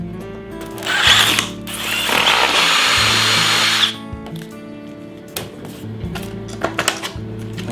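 A power drill with a step drill bit bores an overhead hole, whining loudly for about three seconds before stopping, followed by quieter clicks and handling knocks nearby.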